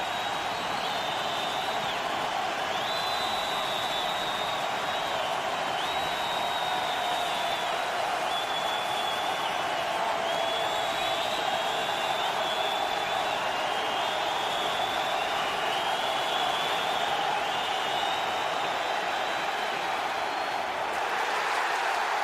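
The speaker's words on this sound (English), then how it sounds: "3rd and 11, and this crowd is in full throat." Stadium crowd at an NFL game, Tampa Bay Buccaneers at Oakland Raiders, roaring on third and eleven: a steady, loud wall of cheering and noise that holds unbroken throughout.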